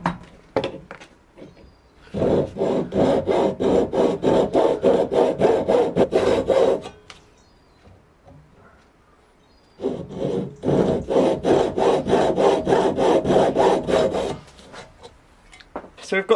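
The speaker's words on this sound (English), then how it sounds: "So we've got the notch cut in the wood itself, sanded it down a little bit." A saw cuts a notch into blackthorn wood for a dagger handle, making two long runs of loud, rhythmic rasping strokes with a quiet pause between them.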